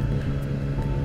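A bus in the Roblox game Cult of the Cryptids drives past, giving a steady low engine rumble that stays near and fairly loud for the whole moment, with no voices over it.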